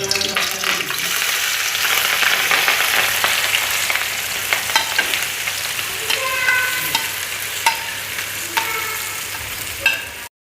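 Green chillies and onion fry in hot oil for a meat pathiri filling, a steady close sizzle broken by scattered spoon clinks and scrapes against the pan, with no talk.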